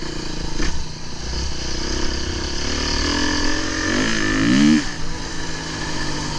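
A Beta enduro motorcycle engine runs close by, a steady buzzing drone that rises in pitch as it revs near the middle, then settles back to a rough idle.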